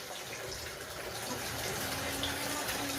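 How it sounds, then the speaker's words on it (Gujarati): Water flows down from a tap or container into a bucket in a home setting during cleaning, a faint, steady splashing trickle with a soft tonal ring. "આવી રીતે જો પાણી નીચે આવે છે"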